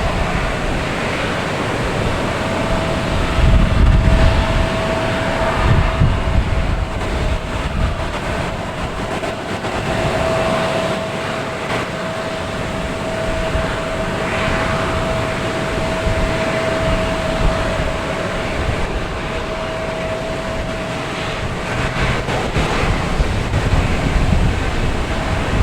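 JetBlue Airbus A320 arriving from Denver at Boston Logan Airport, a steady broadband jet roar with a sustained engine whine, holding loud and even throughout with gusty low rumble, no voices.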